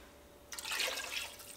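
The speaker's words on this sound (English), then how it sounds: "I think I'm going to add about 2 cups of water." Water is poured into a pot of albondigas soup, a sudden bright splashing gush that starts after a brief quiet moment and continues loudly and up close.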